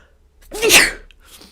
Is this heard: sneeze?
yes